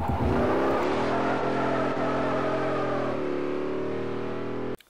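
A 2012 Jaguar XKR-S's 5-litre supercharged V8 in Forza Motorsport 4 revs hard and holds a high, buzzing drone before dropping slightly, then abruptly cuts off.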